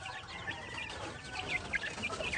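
Rhode Island Red rooster and hens cluck in short, scattered calls, with a few brighter peeps over a steady farmyard background.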